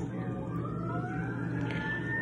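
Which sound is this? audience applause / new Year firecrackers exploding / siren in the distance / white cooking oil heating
siren in the distance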